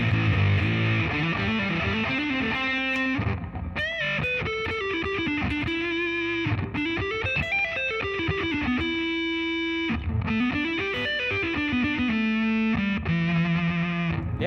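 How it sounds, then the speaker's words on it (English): An electric guitar played through a Big Muff Pi distortion pedal, with sustained fuzzy, distorted notes and short melodic runs, loud and alone with no talking. "Kind of sounds like an old distortion when you do that."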